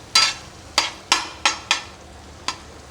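A metal spatula stirs brain fry with masala on a hot tawa, giving six sharp, separate clanks and scrapes at an uneven rhythm over a faint background sizzle.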